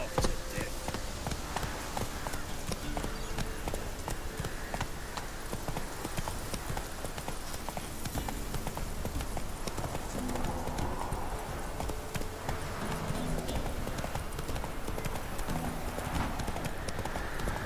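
Roach, the horse in The Witcher 3 video game, gallops with a steady, rapid clip-clop of hooves throughout, joined by ambient game sound and occasional speech.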